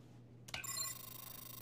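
A telephone rings inside the Danganronpa Another Episode: Ultra Despair Girls video game, one bright electronic ring that starts sharply and then sustains over a steady low hum, with no voices.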